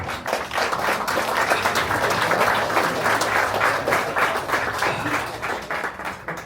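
An audience at a live magic show applauds after a ring-and-rope trick, a dense, sustained burst of clapping filling the room.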